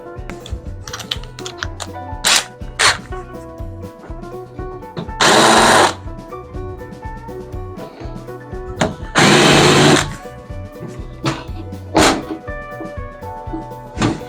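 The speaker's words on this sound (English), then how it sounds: "Now let's sand it and finish it." A power sander buzzes against a wooden birdhouse in a workshop, running in a steady drone with two louder, harsher bursts of sanding and scattered knocks between them, close and fairly loud, with no speech.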